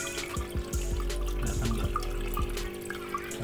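Water gushes steadily from an opened drain pipe while a turtle pond's undergravel filter is backwashed, a continuous close splashing flow with scattered drips and gurgles.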